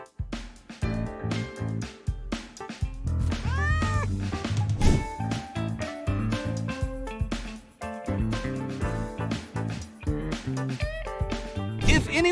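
A cat meows repeatedly and loudly, close by, in drawn-out, wavering cries with brief gaps, over faint background sound.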